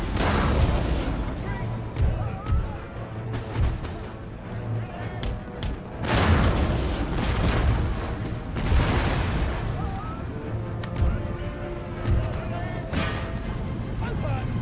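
Cannon and musket volleys crackle and boom through an Empire: Total War battle, with repeated rumbling bursts over continuous battlefield noise and someone talking throughout.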